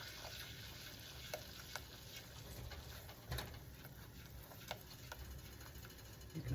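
Flour roux being stirred in a pan for butternut squash lasagna, a soft scraping and faint sizzle with small clicks of the spoon, steady and close, no talk.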